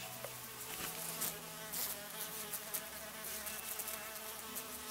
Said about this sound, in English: Do you hear that bee? It's driving me nuts.